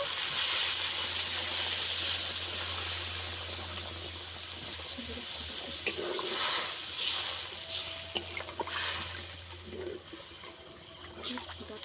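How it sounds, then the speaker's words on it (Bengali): Curry gravy for a paneer dish boiling in a pan, giving a steady bubbling hiss with soft popping bursts that rise and fall at moderate, close-up level throughout. "ঝোলটা আমি ভালো করে ফুটিয়ে নেব।"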